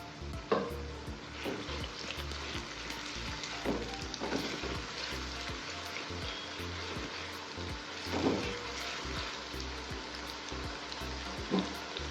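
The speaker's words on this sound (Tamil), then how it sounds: "வெங்காயம் வேகட்டும்" Two medium onions with salt sautéing in a pan for a fish and egg dish, a steady broadband sizzle throughout with periodic spoon stirring and scraping strokes, close and alone.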